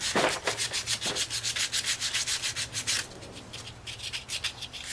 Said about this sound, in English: Sandpaper. Yeah. Have to do it everywhere.